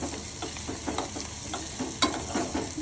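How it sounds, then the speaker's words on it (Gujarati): Chopped onion sizzles in a pan over full flame, with repeated scraping stirs and crackling frying close by and no voices. "ફૂલ ગેસ ઉપર જ આપણે ડુંગળી સાતરી દેવાની. અચકતરી ડુંગળી સાતરવાની આપણે"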